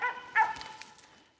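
Hunting dog on a Kentucky squirrel hunt gives two quick high yips or barks close by, followed by fainter rustling as the sound trails off.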